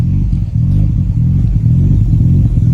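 Cammed engine of a Nissan Skyline R32 GTR revving loudly and close, a steady rough, lumpy rumble with slight fluctuations and no talk.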